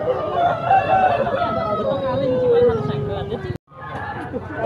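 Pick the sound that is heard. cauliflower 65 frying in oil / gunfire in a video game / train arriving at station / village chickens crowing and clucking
village chickens crowing and clucking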